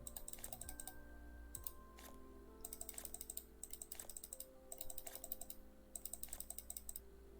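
A computer keyboard is typed on during a Duelyst 2 game session, with quiet, rapid clicking that comes in several short bursts and pauses.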